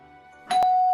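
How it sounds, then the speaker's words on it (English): An apartment doorbell gives a single bright chime, a sharp strike that rings on as a clear sustained tone. There is near silence before it. "it was just 8 o'clock when the bell of the apartment rings"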